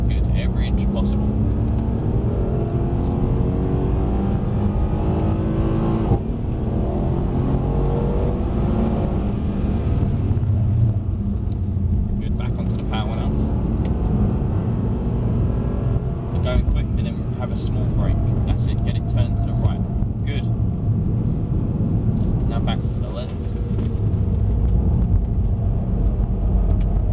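A Mercedes C63s AMG drives hard around a track at Mercedes Benz World, its engine roaring and shifting pitch through acceleration and cornering, loud and close inside the cabin, while people talk over it.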